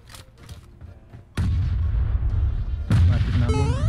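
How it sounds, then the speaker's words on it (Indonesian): A bomb goes off in PUBG Mobile gameplay, a sudden loud boom that jumps up and leaves a sustained rumbling roar, followed by a second surge of blast noise near the end. "Mati kena bom."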